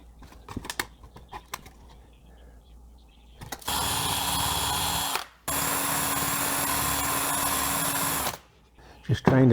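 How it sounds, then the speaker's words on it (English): A power drill whirs loudly in two long bursts separated by a brief pause, after a few faint knocks and handling noises, drilling a hole in a van being fitted out for camping. "Just trying to sneak up on it so I don't drill all the way through"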